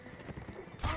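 Horses galloping in the Mount and Blade video game, quick clip-clop hoof beats in a rapid rhythm, closing with a louder thud.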